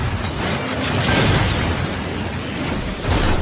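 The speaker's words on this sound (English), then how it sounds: "The shotgun does a lot of damage." Shotgun blasts from the video game Lost Planet: Extreme Condition, as heavy booming bursts that blend into a loud, continuous rumble of gunfire and action noise, with no voices.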